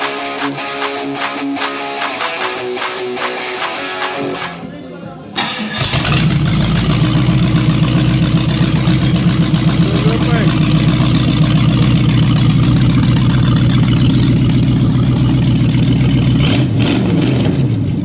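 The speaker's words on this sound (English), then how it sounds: "He's just sent me a video of 351 Windsor engine." A Ford 351 Windsor V8 engine cranks with a rapid chatter, catches and roars into a deep rumbling idle with revving, close and continuous.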